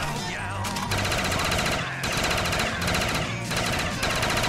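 An RPK machine gun fires in sustained automatic bursts in Black Ops 3 Zombies, loud and dense against constant game noise, with short breaks between bursts.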